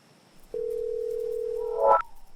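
A phone line tone starts suddenly and holds a steady, moderately loud pitch for over a second before breaking into a brief garbled burst and cutting off.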